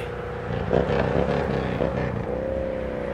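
A motorcycle coasting downhill on a winding mountain road from Rukum Musikot, a steady close engine drone with a slight pitch rise midway, mixed with wind rush.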